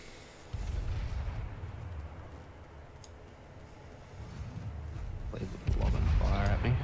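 Warship guns firing in the World of Warships naval game, heavy booming salvos rising over a low rumbling background, ending in a louder burst of fire.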